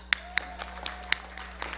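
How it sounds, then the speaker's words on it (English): A few isolated hand claps at an outdoor Sagicor Life lighting ceremony, spaced irregularly and sounding sharp but sparse, with a low steady hum behind them. "Get a clap."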